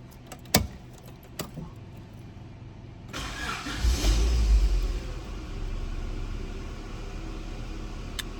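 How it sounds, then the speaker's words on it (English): A 1995 Honda Integra SiR II is started cold in freezing weather: a brief key jingle and clicks, then the starter cranks and the engine catches with a rising roar before settling into a steady, slightly raised idle, close up. "we're gonna go ahead and give it a start here. This is gonna be a cold start"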